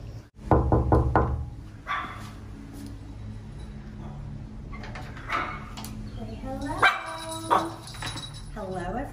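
Dogs bark and yip at the entrance of a villa on the French Riviera, with sharp close barks early and more scattered yelps and whimpers later, mixed with knocking and voices talking in the background.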